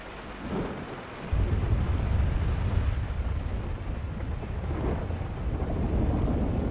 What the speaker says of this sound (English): Holy crap, this thunderstorm is loud.